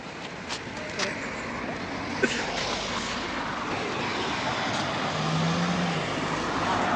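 A steady roar of passing traffic and engines fills the air in Riga, Latvia, with a low rumble building toward the end.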